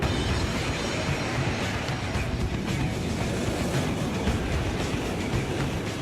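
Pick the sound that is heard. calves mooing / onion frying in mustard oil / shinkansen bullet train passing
shinkansen bullet train passing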